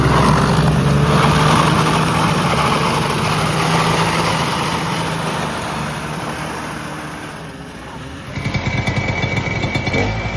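A vintage snowmobile engine runs loud and steady with a rough, buzzing drone, easing slightly before a sharper burst of revving near the end, with no talk over it.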